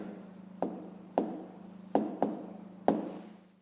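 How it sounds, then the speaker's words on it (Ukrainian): Pen writing an answer by hand on paper for a fifth-grade maths exercise, a close, quiet scratching broken by several sharp taps of the pen against the page, with no talking. "Пишемо відповідь у 15 разів."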